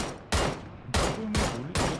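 Gunfire in the battle royale game PUBG on the Rondo map: four loud, sharp shot bursts spaced roughly half a second apart, each with a broad crack and short decay, with no talking.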